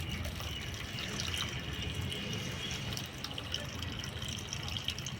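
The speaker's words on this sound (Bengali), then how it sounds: "এটাকে আমি আস্তে আস্তে করে এই উপরের জলটা ফেলে দিচ্ছি" Water poured slowly off the top of a container, a steady soft trickle and splash running continuously without pause, fairly quiet and close.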